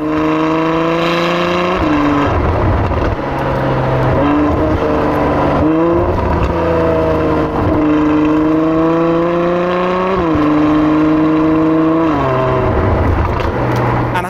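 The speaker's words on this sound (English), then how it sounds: "now I can force the valves to be open all the time, meaning it sounds a little bit more like this." Loud, close V12 exhaust roar from a Ferrari F12 driving with its valves forced fully open, rising through each gear and dipping at several upshifts in a steady, unbroken drone.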